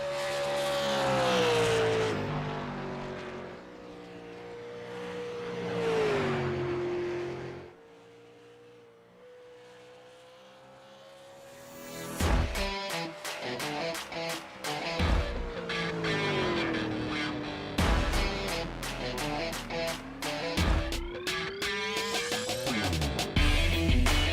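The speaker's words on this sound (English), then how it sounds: "Zach Murphy on his second lap right now." A super late model race car runs a solo qualifying lap at Iowa Speedway, its engine droning loud and steady, pitch rising and falling through the turns, fading briefly on the far side before returning close and roaring past.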